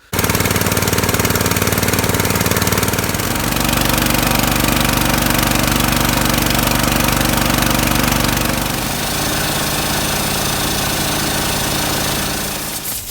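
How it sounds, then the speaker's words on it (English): A handheld blower runs continuously and loud while cleaning out a disassembled HVAC blower motor, its steady roaring whine shifting in pitch and load as it moves around the housing, with no talk. "I've taken it apart and basically just used my blower to blow it out"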